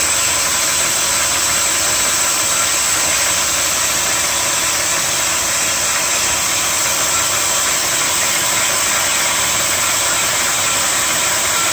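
A bandsaw cutting through a powdery cast iron part in a home machine shop gives a loud, steady mechanical whine and grinding drone, unbroken and close for the whole stretch.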